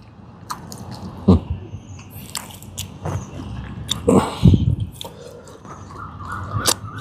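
Close chewing of a rural outdoor-cooked coconut-milk dish, with irregular wet squishy bites and mouth noises, separated by short quiet gaps.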